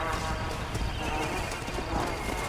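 Horse named Famine in Red Dead Redemption: Undead Nightmare, hooves clip-clopping in a quick galloping rhythm with a whinny, steady and close, under a game soundscape.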